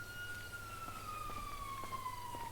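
Emergency vehicle sirens wail in the distance, toward a motorway, a steady gliding tone that slowly falls in pitch over a low background rumble, with no one talking.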